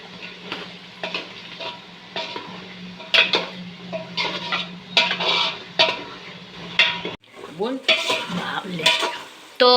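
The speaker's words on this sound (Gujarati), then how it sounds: "મેં અહીંયા તેલમાં જ ડાયરેક્ટ શાકભાજી નાખી દીધા છે, એટલે હવે આપણે આમાં જ તળાઈ જશે" Mixed vegetables for undhiyu fry in hot oil in a pan, with a continuous sizzle broken by repeated scraping and clinking of a spoon stirring against the metal pot.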